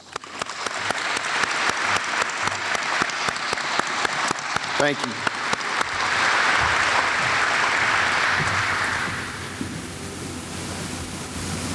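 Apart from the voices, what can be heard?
audience applause for honored guests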